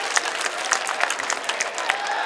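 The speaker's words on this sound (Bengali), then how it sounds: "আমরা করতালির মাধ্যমে তাকে স্বাগত জানাবো।" An audience at a political gathering applauds to welcome Engineer Ishraque Hossain, a dense, steady patter of many hands clapping at moderate distance, with no speech over it.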